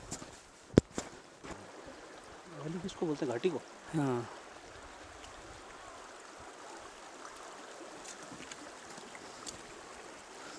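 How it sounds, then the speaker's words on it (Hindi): The Lidder river flows through Betaab Valley in Kashmir as a steady, distant broadband rush, with people talking briefly over it near the start. "एक नदी की आवाज़ भी सुनाई दे रही है, जो मेरे हिसाब से लिद्दर वैली है।"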